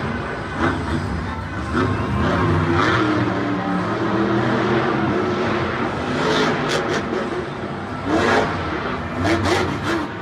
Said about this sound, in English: Scott trying to bring his Hot Wheels fans over to this El Toro Loco ice truck